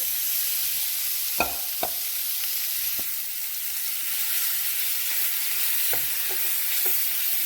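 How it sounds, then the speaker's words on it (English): Beef searing in a pan with bacon for a Guinness stew, a loud continuous hissing sizzle with a few occasional knocks and scrapes of a utensil, close, no voices. "All right, let's go ahead and get our beef added into the pan."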